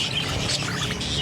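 Pet parakeets chirp close by, a busy, overlapping twitter of bright tweets heard at steady loudness.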